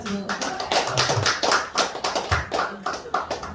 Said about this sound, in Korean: 박수 한번 쳐. 박수.